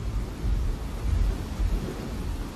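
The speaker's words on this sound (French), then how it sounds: "d'intenses tempêtes tropicales comme celle-ci appellent des mesures de grande ampleur" Deep rolling thunder rumbles through a stormy wash of wind and rain during a tropical storm at sea, swelling in heavy low surges over a couple of seconds.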